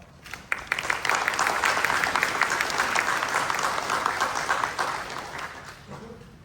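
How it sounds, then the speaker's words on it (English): An audience at a Buddhist Obon and Hatsubon family service at Fresno Betsuin claps to welcome Reverend Kodo Umezu, a full, dense burst of applause that rises quickly, holds steady and tapers near the end. "Please welcome Reverend Kodo Umezu with applause."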